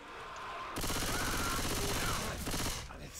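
A dense, sustained barrage of video-game gunfire during a team scrim erupts suddenly and roars for about two seconds of overlapping rapid shots, then tapers off.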